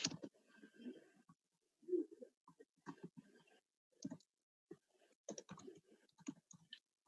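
Sparse, irregular clicks of keys being typed on a computer keyboard while writing C code, quiet and close, arriving in short bursts with gaps of silence between them.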